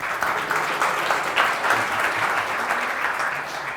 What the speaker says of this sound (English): Oh, you guys deserve a round of applause.